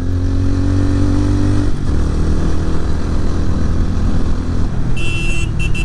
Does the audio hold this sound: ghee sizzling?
no